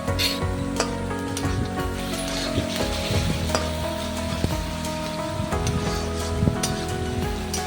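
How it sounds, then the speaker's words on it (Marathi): Chopped onions sautéing in a pan for soya keema, hissing and crackling steadily up close while a spoon scrapes and stirs at intervals, with no voices. "कांद्याला पण मस्त असं छानसं परतून घेणार आहे"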